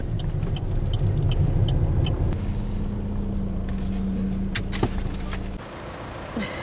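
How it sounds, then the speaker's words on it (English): Car driving along a road with a developing wheel wobble, a steady engine and road rumble throughout under wind noise, with a few brief knocks near the end before the drone drops away. "All was going pretty well until about 3 minutes ago, when the car developed a bit of a dodgy wobble."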